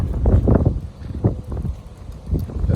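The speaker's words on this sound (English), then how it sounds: "I know it's windy" Wind buffets a microphone outdoors in loud, uneven low rumbling gusts that rise and fall several times, with no talk.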